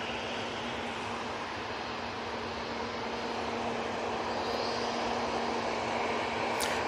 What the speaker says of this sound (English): This Ryanair is off to Alicante.